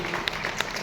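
An audience in a hall bursts into applause, a short dense patter of many hands clapping at once, fairly loud and with no voice over it.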